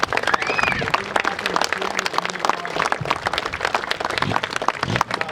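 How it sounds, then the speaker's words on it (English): An outdoor crowd at Fort Miles, Cape Henlopen, claps for reenactors of the U-858 crew surrender, a moderate, uneven patter of hands with some voices mixed in. "let's give our guys a round of applause"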